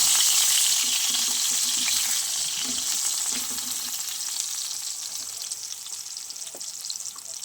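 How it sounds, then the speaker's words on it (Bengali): Brinjal frying in a pan produces a loud, continuous hissing sizzle that eases slightly over time, with faint stirring sounds and no voices. "এখানে দেখো বেগুনটা ভাজি"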